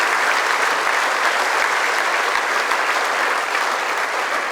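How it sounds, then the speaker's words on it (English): Applause fills the room at an annual charity dinner, a loud, even, unbroken burst of many hands clapping. "Please give them another big round of applause from the Ways organisation."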